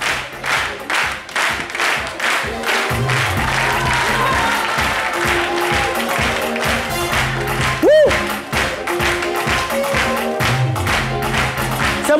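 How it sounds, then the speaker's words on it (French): A studio audience at a French midday television show claps steadily and loudly throughout, a dense continuous patter with a brief whistle-like tone near the end and faint voices underneath. "merci de vous applaudir très très fort"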